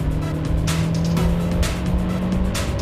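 Turbocharged VTEC car accelerating hard, a steady droning engine note with a rising whine heard from inside the cabin, with bursts of wind and road noise throughout.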